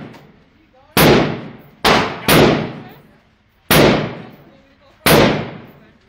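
Five loud gunshots ring out at a shooting range, each a sharp blast with a long, echoing decay. The shots come at uneven intervals, two of them close together, and there is no talking between them.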